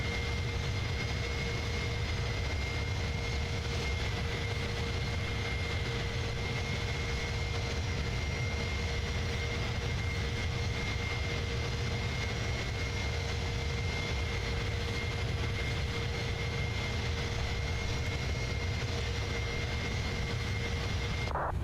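The engines of an iniBuilds A310 airliner in Microsoft Flight Simulator give a continuous, even jet drone heard from inside the aircraft, with a faint steady whine on top and no voices.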